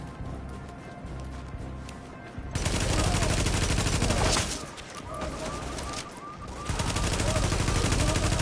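Custom M44 rifle fired in The Division video game, sharp loud shots in rapid succession over steady game ambience, close and dense with brief lulls between bursts.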